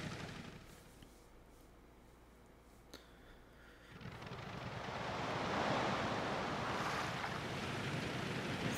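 Ocean waves from the Paper Mario: The Origami King video game, quiet at first, then a broad rushing surf swells up around the midpoint and holds steady and fairly loud to the end, with no voices.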